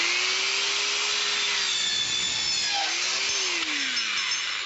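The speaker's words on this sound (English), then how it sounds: "I'm going to take my DualSaw here, and watch how easily I can go through this copper pipe in just seconds." A counter-rotating DualSaw with ruler and laser guide cuts through copper pipe, a loud continuous grinding hiss over a steady motor whine that shifts pitch briefly near the end, close and alone.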